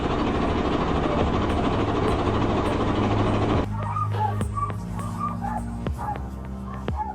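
Hunting dogs attacking a massive wild boar at a cornfield's edge, with loud excited barking and yelping over a dense, noisy outdoor background that drops slightly partway through.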